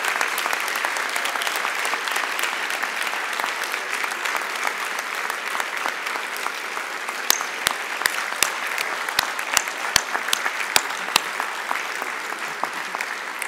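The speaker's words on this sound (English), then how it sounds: "give a hearty round of applause to all of the people, family, faculty, loved ones who supported you on this journey" A commencement audience claps in sustained applause for graduates, families, faculty and supporters, a dense steady wash of hands with scattered louder individual claps standing out near the end.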